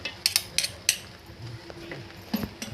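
Masala rice being stirred in a pot over a low gas flame, with a spoon clinking and scraping against the metal in a few sharp taps and soft scrapes, close and fairly quiet.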